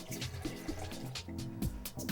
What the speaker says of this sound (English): little bit of water because we have the orange juice concentrate